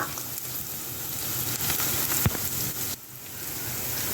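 Chopped onions frying in a pan with salt and green chillies, a steady close crackling sizzle throughout, with a brief louder pop midway.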